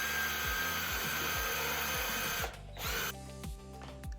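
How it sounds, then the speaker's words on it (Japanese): A countersink bit bores screw-head recesses into a wooden board for a Japanese honeybee hive, giving a loud, steady power-drill whine with a rhythmic grinding pulse that stops briefly and resumes. "まず皿取り切りでビスの頭が沈む穴を作ります"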